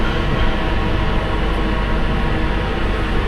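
A London Underground Piccadilly line train pulling away, heard from the rear cab: a steady, loud broadband rumble and rush with no clear breaks and no speech.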